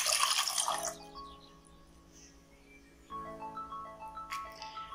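Water is poured into melted butter in a bowl while making Moroccan chebakia dough, a splashing pour at first followed by soft trickles and a second pour, close and fairly quiet.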